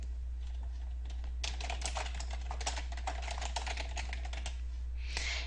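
Fingers typing a campaign name on a computer keyboard, a quick run of close, crisp key clicks in uneven bursts over a low steady hum, no voices.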